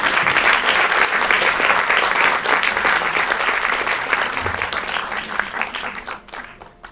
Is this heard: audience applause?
yes